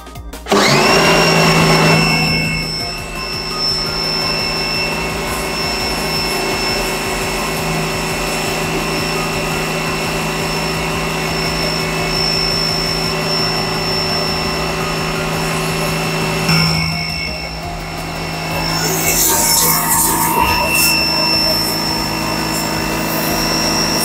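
A Krisbow 130 bar high-pressure jet cleaner for washing motorbikes and cars runs steadily with a loud, constant motor whine and hum, briefly dipping midway before resuming with a hissing spray burst.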